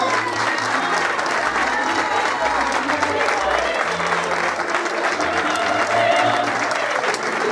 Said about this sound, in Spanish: Un fuerte aplauso de nuevo